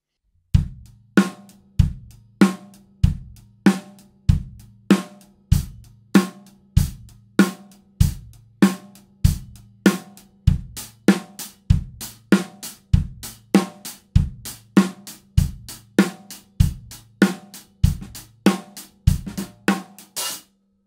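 A hi-hat keeps a steady eighth-note pulse on its own, certain strokes hit harder than others to form shifting accent patterns.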